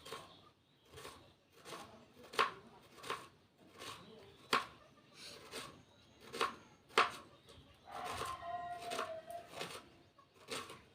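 Raw chicken being chopped into pieces with a knife on a board for a spicy home-style chicken dish, a steady series of sharp close chops with small scraping sounds in between, and faint voices in the background.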